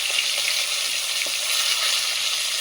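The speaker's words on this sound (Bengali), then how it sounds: "আর বেশি ভাজতে যেও না, ফাটছে প্রচুর পরিমাণে" Fish pieces fry in a very hot pan over a fierce flame, giving a dense, continuous close-up hiss with faint pops of spattering oil and no voices.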